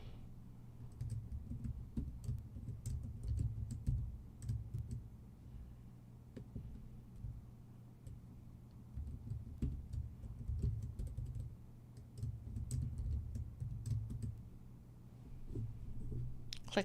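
Fingers type an email address and password on a computer keyboard, a steady run of soft key clicks with short pauses between bursts, close and fairly quiet, with no one talking.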